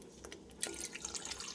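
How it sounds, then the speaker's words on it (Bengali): Hot water poured into a pan of sour fish curry made with small fish and tamarind, a splashy gurgling pour starting after a couple of faint drips and continuing steadily, close and moderately loud. "একটু গরম জল দিয়ে দিলাম এর মধ্যে।"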